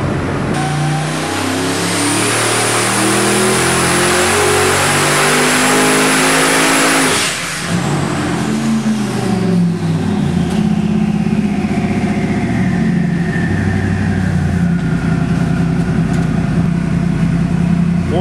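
Twin-turbo 427 LS engine of about 1700 horsepower roaring at full load on a dyno, a loud continuous pull with rising pitch, then a drop as the throttle eases and a whining turbo spool tails off.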